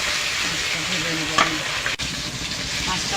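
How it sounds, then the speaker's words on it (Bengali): Fish seasoned with turmeric and salt frying in hot oil in a wok, a steady close sizzle running throughout with a brief stirring clatter midway, with no talk. "মাছটা ভেজে নেব।"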